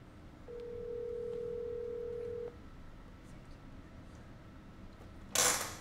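An outgoing phone call placed through Siri gives a single steady ringback tone of about two seconds, then quiet, then a brief louder burst at the end.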